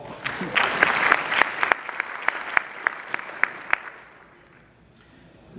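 Scattered applause at a Realtors association ceremony in Orlando: a few distinct, sharp hand claps ring out over a light patter, thinning out and fading to near silence by the end.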